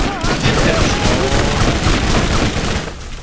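Dense, continuous gunfire from the video game Borderlands, a loud sustained barrage of rapid shots and bursts that holds steady for a few seconds before easing off at the end.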